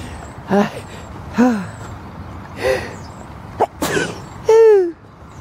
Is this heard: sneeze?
yes